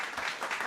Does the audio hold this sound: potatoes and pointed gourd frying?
no